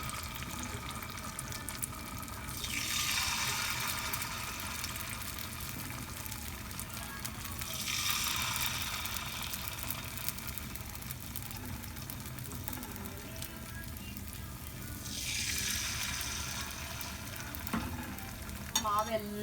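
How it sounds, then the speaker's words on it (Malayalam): Vegetable kuzhi paniyaram batter, made from leftover dosa batter, sizzles in the hollows of a paniyaram pan: a steady, quiet frying hiss with three recurring louder swishes spaced several seconds apart. "ഈ മിക്സ് ചെയ്ത് വെച്ചിരിക്കുന്ന ഈ മാവ് എല്ലാ കുഴിയിലേക്കും ഒഴിച്ച് കൊടുക്കുക. നന്നായിട്ടൊന്ന് കുക്ക് ചെയ്യാം."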